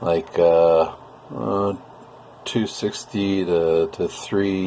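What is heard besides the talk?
No everyday noise stands out behind the speech.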